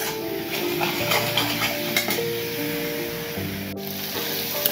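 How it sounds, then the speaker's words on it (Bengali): Potatoes and cauliflower sautéing in hot oil in a pan for a fish curry, a continuous moderate sizzle with occasional stirring knocks, steady and close, with a faint tonal hum behind it. "তারপর আলু আর ফুলকপি একসাথে দিয়ে কষিয়ে"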